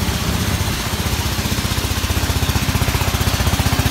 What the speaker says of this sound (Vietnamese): Ghe bên ngoài chạy ồn quá cho nên chưa có hỏi được ai thắng thua.